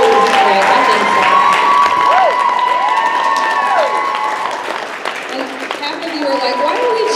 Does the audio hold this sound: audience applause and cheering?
yes